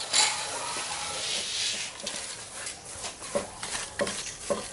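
Medium coarse bonsai soil poured into a pot with large drainage holes: a grainy rushing pour at first, then scattered gritty taps and rattles as granules drop and settle, with no talk.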